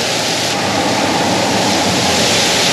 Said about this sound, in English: Look at this water crossing.